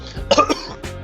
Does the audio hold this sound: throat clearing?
yes